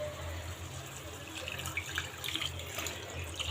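Water poured into a pan of fish curry cooking on the stove, a continuous splashing, trickling stream with a faint low hum beneath, growing slightly busier toward the end.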